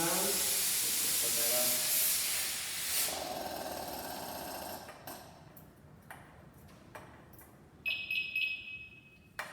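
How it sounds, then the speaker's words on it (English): A firefighter's air pack turning on: a strong rush of hissing air rises and then fades into a steady hiss, followed by several sharp clicks and a high ringing tone near the end. "I'm going to go ahead and turn Ryan's air pack on. You'll hear some different noises when it comes on"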